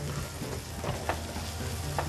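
Chili and garlic sizzle steadily in hot oil, with soft stirring scrapes now and then; close by and moderately quiet, no voices.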